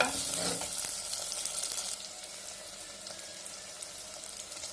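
Onions sautéing in a pan for a Tamil fish curry (meen kulambu), a steady close sizzle with occasional stirring scrapes, louder in the first two seconds and then settling to an even fry with no talking.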